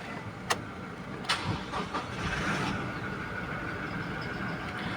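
A used 2021 Toyota Hilux Revo Z Edition pickup gives a couple of clicks, then its engine cranks and catches into a steady, close idle.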